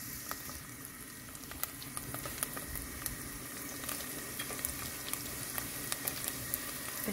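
Onion caramelizes in a pan in rendered meat fat with no oil, giving a steady close sizzle and frying crackle scattered with small pops throughout.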